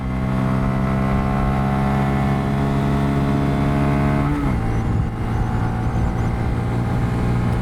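A Honda Grom motorcycle with a 14-tooth sprocket runs pinned at full throttle near top speed, a loud sustained engine drone with steady harmonic tones that dip briefly as it shifts, then carry on under wind rush.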